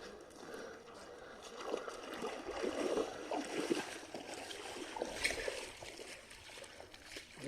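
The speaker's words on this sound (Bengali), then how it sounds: "স্রোত আছে ভালোই ঝর্ণায় পানি আছে" A mountain waterfall stream rushing along a hilly trekking trail, a steady soft wash of flowing water throughout, fairly quiet and continuous, with no voices.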